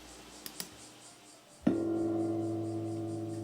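Bronze gong struck once as a seating signal at a Japanese tea ceremony, a single clear strike after a couple of faint clicks, ringing on with a long, slowly fading hum.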